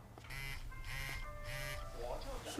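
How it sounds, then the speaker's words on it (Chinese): An indoor telephone rings in repeated electronic bursts, three evenly spaced rings with short gaps, fairly close and clear, followed by a brief murmur of voices. "是不是电话响啊？"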